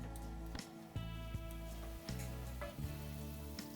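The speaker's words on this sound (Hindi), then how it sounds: "इसको मैं ढक के 2-3 मिनट तक उबाल आने तक पकने दूंगी" Pumpkin leaf curry simmering in a covered pot gives a steady, close sizzling bubble with a few soft knocks and pops scattered through it, and no voices.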